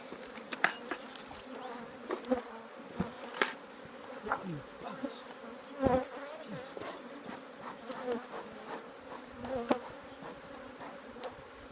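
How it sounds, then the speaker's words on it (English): Dense, steady buzzing of many honey bees swarming close around a hive in spring, with individual insects droning past in louder swells throughout. "This is so populated with bees, this is."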